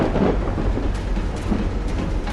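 Thunder rolling through a rainy storm in the video game Call of the Sea, a dense, loud, continuous low rumble over steady rain with no voices.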